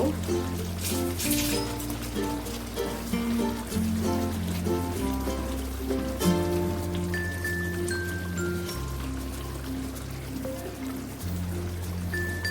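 Katla fish rezala gravy bubbling uncovered in a pan over a high gas flame, a steady soft burbling and popping that runs throughout beneath background music.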